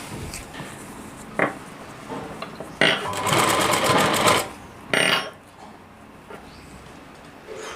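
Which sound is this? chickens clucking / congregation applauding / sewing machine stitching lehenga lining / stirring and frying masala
sewing machine stitching lehenga lining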